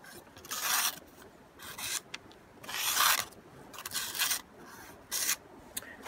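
A knife blade is ground down to reshape its edge on a sharpener, making harsh rasping strokes in bursts of about a second, separated by brief gaps, loud and close.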